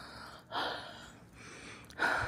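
Heavy, breathy panting from someone out of breath while walking outdoors in the dark before dawn to throw out rubbish, with two strong exhalations that rise and fall close to the microphone.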